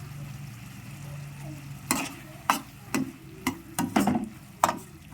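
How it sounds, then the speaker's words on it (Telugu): Garlic cloves are stirred into simmering tomato chutney in a pan, a soft sizzle under a series of sharp spoon clinks and scrapes that come irregularly in the second half, close and fairly quiet. "రెండు రెబ్బలు వెల్లుల్లి వేసుకోవాలి."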